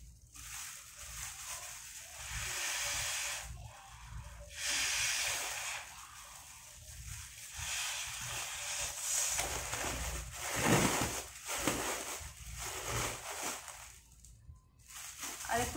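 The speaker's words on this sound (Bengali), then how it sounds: "চলো চার নম্বরটাও ফুলিয়ে ফেলি" Air is blown into a big plastic bag to inflate it, heard as a series of breathy gusts every two or three seconds with crinkly plastic rustles between them, close and fairly quiet.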